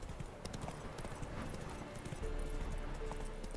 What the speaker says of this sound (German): ich reite gern mit meinem Pferd